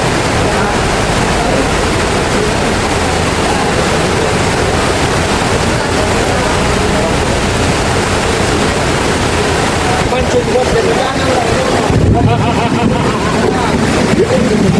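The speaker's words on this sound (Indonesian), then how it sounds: "Wah, gede banget hujannya." Very heavy rain pours down as a dense, continuous roar with a rushing, water-laden texture during a flood, and people's voices come through faintly under the downpour.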